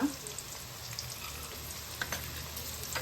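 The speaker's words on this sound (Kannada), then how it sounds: "ಈಗ ಈರುಳ್ಳಿ ಬ್ರೌನ್ ಫ್ರೈ ಆಗಬೇಕು" Onions frying in a pan as the base for a fish curry, a steady close sizzle with faint crackles and occasional stirring, no one talking.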